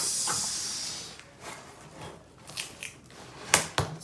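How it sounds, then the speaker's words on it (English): A safety unboxing knife slices into a sneaker shoe box. An airy hiss gives way to short, dry scraping and tearing cuts at close range, each a quick crisp burst. "Let's cut into the box"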